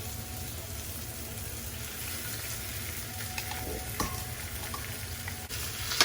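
Paella ingredients, including tenderloins, searing and browning in a pan on a stovetop, a continuous close sizzle with occasional faint stirring scrapes and a small clink at the end.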